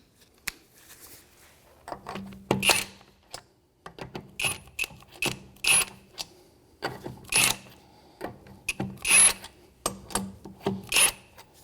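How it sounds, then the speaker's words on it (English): Lug nuts on the rear wheel of a 2011-2015 Chevrolet Cruze being loosened with a 19mm socket while the tire sits on the ground, giving repeated bursts of metallic ratcheting and clanking in irregular rhythm, close and clear. "loosen up these lug nuts on the tire while it's on the ground so the tire doesn't spin. We're going to do that with a 19mm socket."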